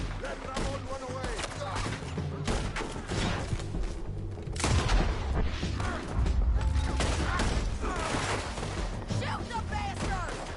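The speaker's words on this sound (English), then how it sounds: "Artillery!" Artillery fire in the Red Dead Redemption 2 video game, with repeated loud booms, crashes and scattered gunshots in a chaotic battle, mixed with voices.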